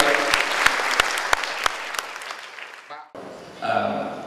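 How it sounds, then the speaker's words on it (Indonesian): Audience applause for a speaker at an Indonesian Diaspora congress, a dense wash of clapping with a few sharp individual claps standing out, fading after three seconds before a voice begins speaking. "Tepuk tangan untuk Pak Nengel sekali lagi."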